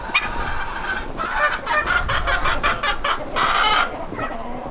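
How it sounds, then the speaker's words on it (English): Several chickens cluck and young roosters call in repeated bursts, fairly close, over a steady outdoor background hum. "Couple young roosters"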